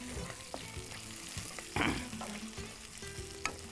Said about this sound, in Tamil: இப்போது சோம்பு, கருவேப்பிலை, வெங்காயம் இது போட்டு வதக்கலாம்.